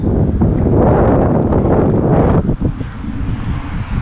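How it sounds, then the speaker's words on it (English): Loud, blustery wind buffets the microphone in heavy rumbling gusts that ease slightly near the end. "sorry about the wind, it is insane."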